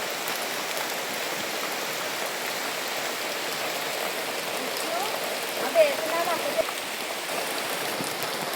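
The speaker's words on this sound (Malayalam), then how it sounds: "വെള്ളം കയറിക്കൊണ്ടേയിരിക്കുകയാണ്. നല്ല മഴ." Heavy rain pours steadily outside a house as floodwater rises in front of it, a continuous, even wash of rain and flowing water with one or two brief louder splashes and no talk.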